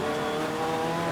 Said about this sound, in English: One car there across the line all lonely, which is quite unusual